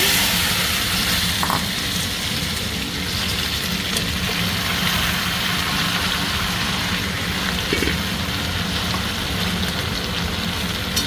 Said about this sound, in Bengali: তেলে দিয়ে দেবো শুকনো লঙ্কা, সরষে আর জিরে, দিয়ে দেবো কুল বড়।